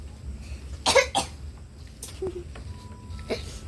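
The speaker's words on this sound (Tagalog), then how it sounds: "Umuubo siya." A couple of short coughs close by, followed by faint background noise and a small later cough.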